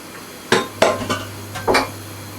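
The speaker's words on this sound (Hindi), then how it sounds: "तो इसे अब मैं ये जो चिकन और चने हैं इसमें ऐड कर रही हूँ।" Chicken and chickpeas tumble into a metal pot for murgh cholay, with a few separate clanks and scrapes of a spoon on the pot, close and moderately loud, spaced irregularly over a steady low hum.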